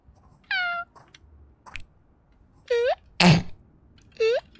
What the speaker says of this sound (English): It's my kitten.